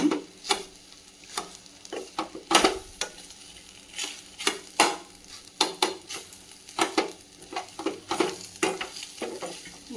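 Egg masala cooks in a pan while a spoon stirs it, producing repeated sharp scraping strokes and knocks in an uneven rhythm over a low, close sizzle.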